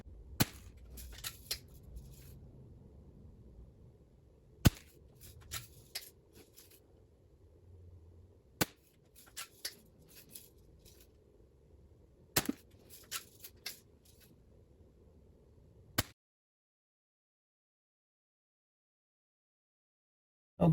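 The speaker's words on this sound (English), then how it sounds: "we are shooting the Daisy Model 1999 Woodland Trail" A Daisy Model 1999 Woodland Trail BB gun fired repeatedly, each shot a sharp crack at irregular intervals over a low background rumble, about eight distinct shots with smaller clicks between, then silence.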